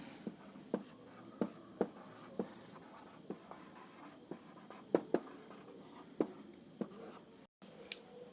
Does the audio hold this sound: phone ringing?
no